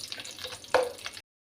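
Dry raisins frying in a pan while making kesari bath, a soft, close sizzle with a brief sharper burst midway as they hit the hot fat, then cutting off.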